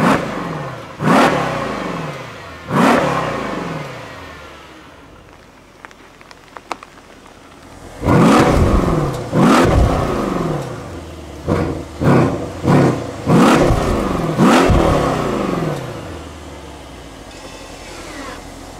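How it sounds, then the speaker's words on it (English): A Mercedes S63 AMG Edition 130 revs its exhaust, with several sharp, loud throttle blips, a quiet idle pause, then a fast cluster of close, rapid revs that settle back down. No voices. "So let's get an exhaust clip, shall we?"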